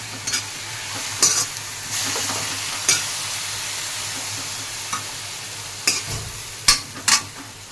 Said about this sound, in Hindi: तो ये जब तक बन रही है मेरी राई, तो बस इसे थोड़ा ही पकाना होता है।